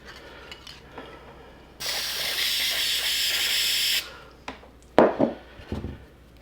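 A can of spray paint sprays onto a carved wooden sign in distressed tiki style: one loud, steady hiss lasting about two seconds, followed by a few soft knocks and handling sounds.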